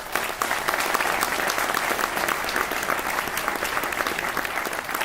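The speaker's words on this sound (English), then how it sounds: "Here's the applause." Steady, dense applause fills a banquet hall as guests are welcomed on stage, a continuous roar of many hands, loud and sustained throughout without a break.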